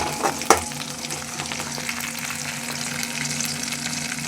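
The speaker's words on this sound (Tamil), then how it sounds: "நல்லா வதக்கிக்கலாம்." Mustard seeds, onion, curry leaves and dried chillies fry in hot oil for a tempering, giving a steady close sizzle with a sharp spatula clack near the start and faint stirring scrapes throughout, and no talk.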